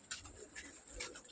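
Pet pigeons, including teddy and golden red-eyed birds, coo softly in a few faint, quick murmurs over a quiet background, heard only briefly.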